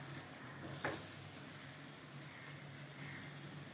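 Two onions sliced lengthwise sizzle steadily after going into hot oil for an egg masala gravy, a soft, even frying hiss with one brief stir or clink, faint and close, no voices.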